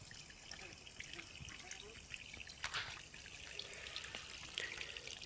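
Clear natural spring water trickles and drips steadily outdoors in a soft, continuous wash with small splashes, heard faint and close.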